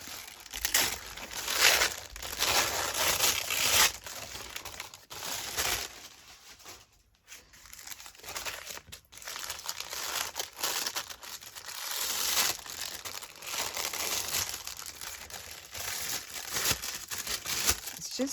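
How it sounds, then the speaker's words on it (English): Thin tea-dyed butcher's paper is torn by hand for an altered book: repeated close crinkling rips and rustles, coming in bursts with short pauses between them. "Just going to rip some off."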